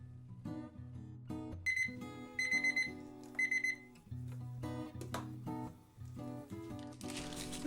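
A digital kitchen timer is set while making sourdough ciabatta, giving a series of short electronic beeps and button presses in irregular bursts, heard up close and alone.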